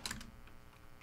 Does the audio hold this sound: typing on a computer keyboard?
yes